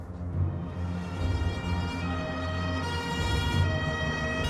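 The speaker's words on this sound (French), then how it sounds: "nous avons entendu les sirènes des voitures de police balayer les rues de Palerme" Police car sirens wail in a steady, sustained tone through the streets of Palermo over a low rumbling street background, fairly loud and continuous.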